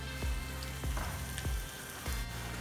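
Asafoetida hits hot oil in a daal tadka, giving a loud, continuous sizzle and frying crackle with a few sharp spatters and stirring scrapes.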